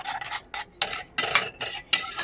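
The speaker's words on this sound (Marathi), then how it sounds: "त्याला थोडा वेळ आपण असं गॅसवर परतून देऊया म्हणजे छान शिजून निघणार" Garlic fenugreek curry masala is stirred and fried in a pan, a series of rhythmic metal scraping strokes roughly every half second, close up and clear.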